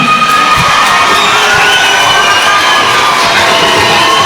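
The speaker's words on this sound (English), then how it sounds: "And the crowd comes to life here for Dean Gaskell making his way to the cage." Loud crowd at a cage-fighting event cheers and whoops as a welterweight fighter makes his walk to the cage, a continuous roar of shouts and yells with no break.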